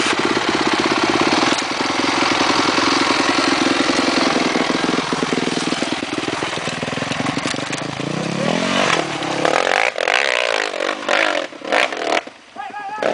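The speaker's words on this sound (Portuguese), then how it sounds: "moto é forte demais" A motorcycle engine runs loud and close, a steady idle that swells into revving, at an outdoor grass-track event in 2009; brief voices come in near the end.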